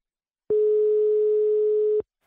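A telephone ringback tone sounds while a call is placed: one steady electronic beep, loud and clear, lasting about a second and a half between short silences.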